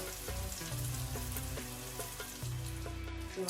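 Chicken patties for burgers fry in a pan over medium heat, a steady dense sizzle and crackle throughout, with faint background music underneath.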